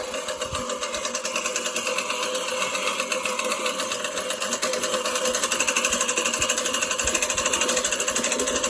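A Gardena 380 15-inch manual reel mower cuts through grass and dandelions with a steady whirring, clicking blade rattle, close and continuous, with no talk.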